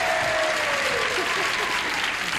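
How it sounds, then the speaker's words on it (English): A television game-show studio audience clapping, a dense, steady burst of applause throughout, with a voice briefly heard over it. "people are clapping for my husband"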